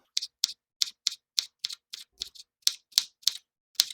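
Knife chopping a jalapeño thinly on a cutting board while making ceviche: a steady series of about fourteen crisp, close taps at a fairly even rhythm, with no talking.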